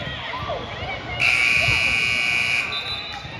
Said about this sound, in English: we actually heard the buzzer on the other court and then heard the one here a split second later